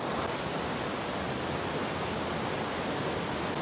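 A powerful, high-volume waterfall in Khao Yai National Park, Thailand, roars as a steady, dense broadband wash of falling water, loud and close, with no talk over it.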